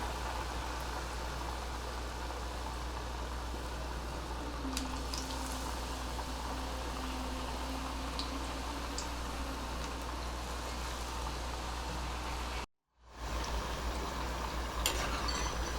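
Baby corn pieces coated in batter deep-frying in hot oil, a steady, even sizzling bubble holding throughout with a low hum beneath, briefly cut out near the end.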